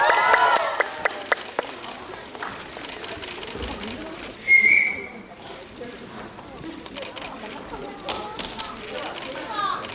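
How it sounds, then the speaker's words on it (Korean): Audience applause at the close of a live talk event for the film The Chronicles of Evil, a lively burst of clapping and cheering with a sharp whistle in the middle, then fading under chatter. "여러분 다시 한번 뜨거운 박수 드리겠습니다"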